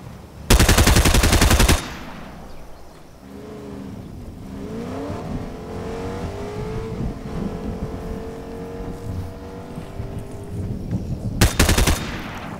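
Rapid automatic gunfire in the video game Fortnite Zero Build, two loud close bursts at the start and end with vehicle engine droning in between.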